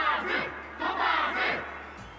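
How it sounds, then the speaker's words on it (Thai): A game crowd in Honkai: Star Rail roars and cheers at a festival battle event, loud and continuous in swelling waves that fill the whole stretch without talk. "เสียงเชียร์ดังกระหึ่มเชียวนะ"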